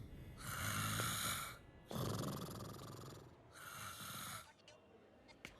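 A hospital patient snores loudly and close by in three long, rasping breaths separated by short pauses, then quiets down, with no talk over it.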